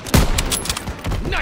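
Gunfire in the World War II shooter Call of Duty WWII, with a burst of close, loud shots at the start and further rapid reports mixed with battle noise and brief voices.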